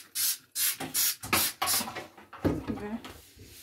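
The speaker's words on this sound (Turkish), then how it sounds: "Süngere de biraz spreyden sıkayım." Cif Perfect Power cleaner is sprayed onto a sponge in a series of quick, hissing trigger bursts, close to the microphone, with a few softer scuffs between them.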